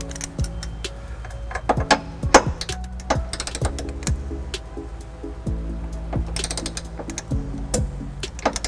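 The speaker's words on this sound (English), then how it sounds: "Putting on a 5-inch extension, that way I can get my torque wrench below the hitch here." A torque wrench on a 5-inch extension tightens a trailer hitch bolt beneath a 2010 Ford Escape, giving a close, steady run of sharp ratcheting clicks and metallic ticks with no talk.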